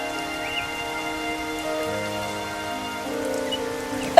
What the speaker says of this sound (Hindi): अरे ये तो बारिश शुरू हो गई।